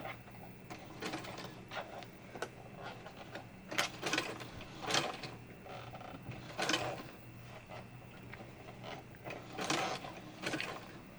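A sewing machine stitches clothesline into a fabric bowl, running in short whirring bursts separated by brief pauses, with occasional mechanical clicks between runs.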